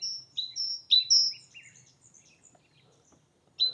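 A great tit sings a few thin, very high-pitched phrases in a short burst, then pauses before one more note. The song is clear against an otherwise quiet natural background.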